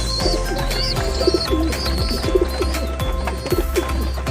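Pigeons in a backyard loft coo over and over, low soft rolling calls repeating under chirps and faint wing flutters, with steady background noise and no talking.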